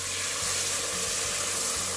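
Water poured into a pan of frying chicken tehari with salt, cumin and red chili, giving a steady hissing sizzle and rushing splash that holds evenly throughout, close and fairly loud, with no talking.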